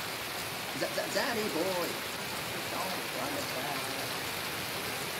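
Steady rain falls outdoors, a constant broadband hiss running throughout, with a person talking briefly over it.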